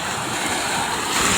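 Sea waves wash steadily on open water during a squid-fishing outing, a continuous broadband rush with wind buffeting the microphone and no speech.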